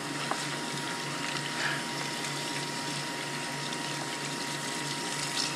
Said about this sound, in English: Now you gotta wash your hand